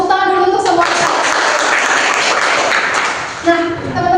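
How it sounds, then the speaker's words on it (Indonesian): A group claps together in a classroom group-counseling session: a few seconds of dense, steady applause, with voices just before and after it. "Tepuk tangan dulu untuk semua"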